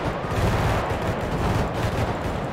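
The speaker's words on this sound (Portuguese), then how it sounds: "É tiro demais." Dense, relentless gunfire in a GTA V gang war, a loud continuous barrage of overlapping shots and bursts with no pause, filling the whole stretch without any talk.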